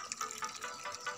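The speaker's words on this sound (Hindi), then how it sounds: "पानी गार्डन में पानी डाल रहे हो?" A garden is being watered, with a soft, faint, steady hiss and patter of water spraying and splashing close by, and no talk over it.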